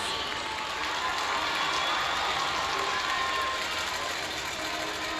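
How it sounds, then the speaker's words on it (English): At a high school basketball game, a crowd applauds the Queen nominees with dense, continuous clapping and some cheering that fills the gym at a steady level throughout. "Please give a round of applause to all of our Queen nominees."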